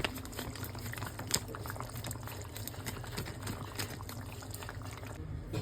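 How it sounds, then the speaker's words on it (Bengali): Chicken curry simmers in a pot after water has been added, a steady close bubbling and popping boil that continues throughout with no talk. "এইবার চিকেনে জল দিয়ে দেব।"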